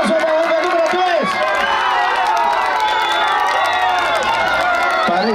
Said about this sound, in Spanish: Aplausos para la número 3.